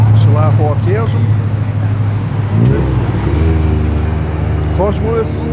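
A Ford Sierra Cosworth driving past at a car meet coffee run by a stadium, its engine rumbling and rising in pitch as it moves by, with people talking over it throughout.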